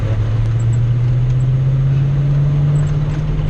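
A 1989 Ford Mustang GT with its V8 engine cruising at low RPM, around 1,000, on a road: a steady, deep, unbroken drone with a strong low hum and road noise, loud and continuous throughout.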